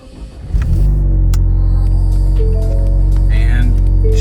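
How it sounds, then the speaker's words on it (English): A 2015 Ford Mustang EcoBoost engine with a 6-speed manual cranks briefly and catches, settling into a steady, loud idling rumble close by. "I'm gonna try and start the car and hear if it's actually off or not"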